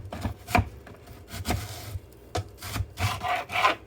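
A knife, not the sharpest, cuts through half an onion on a wooden board, giving a string of rubbing, sawing strokes and soft chopping knocks in an uneven rhythm, close and alone.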